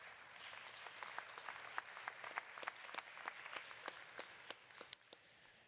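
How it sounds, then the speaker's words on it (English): An audience at a university athletics commencement claps in sustained applause, a dense patter of many hands with some sharper individual claps, moderately distant and fading slightly at the end. "Student athletes, let's show appreciation for them with a round of applause."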